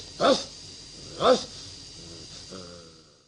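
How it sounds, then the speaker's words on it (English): A man with rabies, foaming at the mouth, barks like a dog in a hospital setting: two sharp, hoarse bark-like shouts about a second apart, then a softer whimpering vocal, close and fairly loud. "you can see this man barking"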